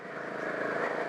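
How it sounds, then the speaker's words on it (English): A BSA Goldstar single-cylinder motorcycle engine drones steadily and loudly while riding, with a thumping single-piston pulse under wind rush. "when you roll on, you can feel that single piston battering away underneath you"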